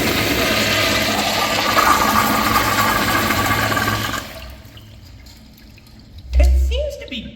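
A first-generation American Standard Jetbrook urinal flushes with a loud rushing wash of water that runs about four seconds, then tapers to a faint trickle before a brief thump and gurgle near the end.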